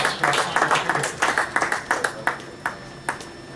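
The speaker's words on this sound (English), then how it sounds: "A round of applause for our final three." Scattered applause from a game-show audience for the final three contestants, a sparse run of individual claps that thins out toward the end.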